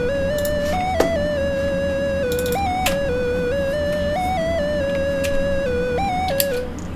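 A pure sine-wave synth lead plays a simple stepping melody over a beat with faint percussive clicks, steady and clear for about seven seconds.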